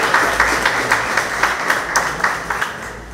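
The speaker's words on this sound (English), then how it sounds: "Give our round of applause." Audience applause at a junior calypso finals, a steady wash of many hands clapping with regular sharper bursts, moderately loud and continuous throughout.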